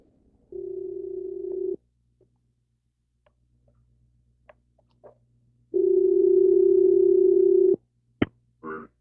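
A telephone line gives two long, steady electronic tones separated by a pause of silence, followed by a few faint clicks as a call is placed.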